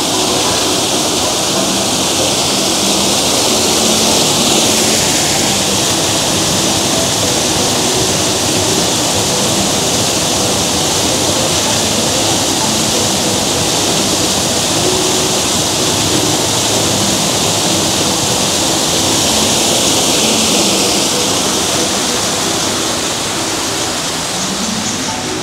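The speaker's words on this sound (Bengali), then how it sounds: "দেখুন এখানেই ঢুকেই কিন্তু রয়েছে একটি সুন্দর ঝর্ণা" A decorative water fountain at the entrance of Green Valley Park in Lalpur, Natore, splashing in a loud, constant rushing hiss that stays steady throughout, with no talk over it.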